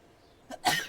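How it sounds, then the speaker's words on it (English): A short, sharp sneeze bursts out after a brief intake of breath, close and loud. "I gotta sneeze."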